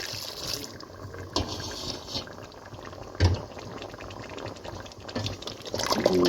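Heated liquid milk poured into fried chicken masala, bubbling and sizzling steadily in the pan, with a few faint clinks along the way.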